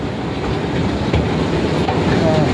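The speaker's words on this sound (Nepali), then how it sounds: "फेरि माथि चढेपछि अर्को ट्रेन आउँछ क्या," A train rumbles steadily at a station platform, a continuous close clatter of wheels and carriage noise with a faint squeal near the end.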